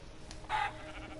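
A single short sheep bleat from the video game Minecraft, brief and fairly clear against a quiet background hum.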